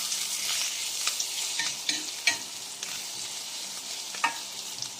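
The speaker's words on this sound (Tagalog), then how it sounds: "syempre ilalagay na po natin yung bawang" Garlic hits a pan of browned ginger and fries with a steady close-up sizzle, while a utensil stirs and scrapes against the pan in several sharp knocks, with no talking.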